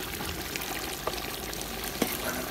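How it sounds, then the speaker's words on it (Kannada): Grated coconut being stirred into country chicken sukka in a hot pan, giving a constant close sizzle with faint scraping and a couple of light knocks, no voices. "ತೆಂಗಿನ ತುರಿಯಾಗಿ ಚೆನ್ನಾಗಿ ಮಿಕ್ಸ್ ಮಾಡುವ."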